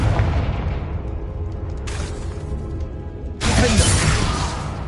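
A Confringo spell blast from the Hogwarts Legacy video game: a booming burst with a rushing swoosh, followed by a second, louder explosive crack and crumbling debris, close and loud.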